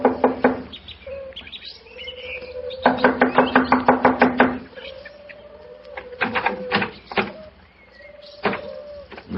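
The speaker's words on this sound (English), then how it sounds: "I'll knock on the door." Knocking on a door in an old-time radio drama, heard as a quick run of several sharp raps followed by a few scattered knocks, with intermittent high squeaks around them.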